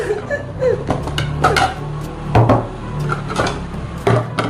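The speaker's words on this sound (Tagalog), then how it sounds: "Eto na yung mga gagamitin natin pinggan!" Plates and dishes clatter and knock together as they are handled in a home kitchen, a close series of irregular clinks and thuds with no talk.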